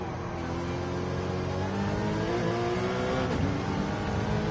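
A race car engine in Gran Turismo 7 revs and accelerates hard on a racetrack, a steady loud roar with rising and falling pitch as gears change, heard alone without talk.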